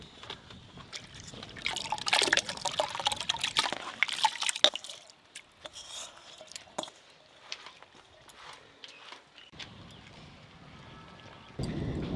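Washed broken rice is tipped into lukewarm water in a pot, making scattered soft splashes, drips and trickles in uneven bursts, close and fairly quiet, with a brief louder rustle near the end.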